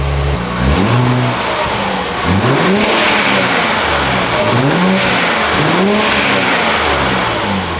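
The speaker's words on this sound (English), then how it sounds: "It's literally just engine noise." A Nissan Z sports car engine with an Fi exhaust revs repeatedly, loud rising and falling roars in several bursts, close up.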